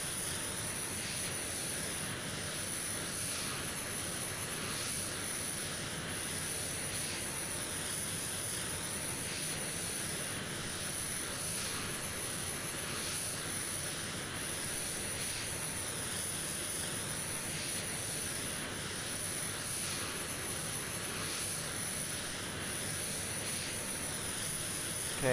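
Simulated F-22 Raptor jet engine spooling up in Microsoft Flight Simulator X, a steady high whine over a broad roaring hiss that holds at a constant moderate level for the whole stretch, with no speech.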